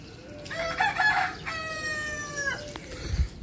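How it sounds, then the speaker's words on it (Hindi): A rooster crows on a cloudy morning, one long, loud, close cock-a-doodle-doo with a short clucking lead-in, and nothing else is heard beneath it. "और सारे मुर्गे को कुड़ू कुड़ू करे जा रहे"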